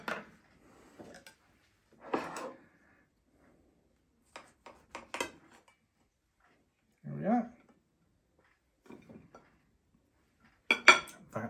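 A knife and fork scraping and clinking on a plate while cutting a sausage in pancake-batter toad in the hole, heard as sparse close clicks and scrapes between short bits of speech.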